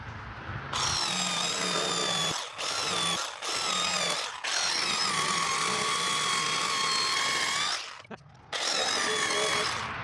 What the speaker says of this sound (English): I'm gonna get the jigsaw out and trim the wood backup plates there down to the shape of the fiberglass